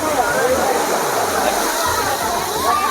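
Water pours and splashes steadily at a waterfall at Patrapada, a broad continuous rush heard close by, while people talk over it.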